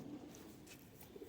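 Patti wale pigeons coo softly from a nearby loft, a few low murmuring calls breaking through steady background noise.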